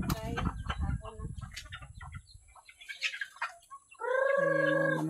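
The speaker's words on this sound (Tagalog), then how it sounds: "Ayan mga manok guys" Chickens cluck and scratch in a noisy jumble, then a rooster crows loudly nearby near the end.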